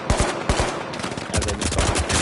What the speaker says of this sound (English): AK's not that bad to use. You just gotta burst fire.